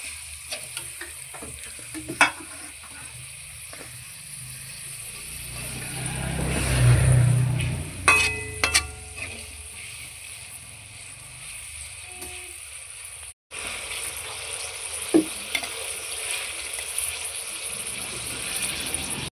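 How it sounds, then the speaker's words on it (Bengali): Five large chopped onions frying in oil for Kolkata-style chicken dum biryani, a continuous close sizzle with occasional scraping stirs and metallic clicks of a spatula in the pan, swelling briefly louder midway. "এবার আমি পেঁয়াজটাকে ভালোভাবে ভেজে নিচ্ছি"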